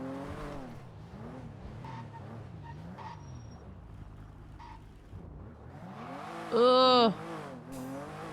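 A repaired car in the NoPixel video game drives off with a steady engine drone that rises and falls in pitch, then a sharp whine or screech swells briefly near the end, while a voice groans once.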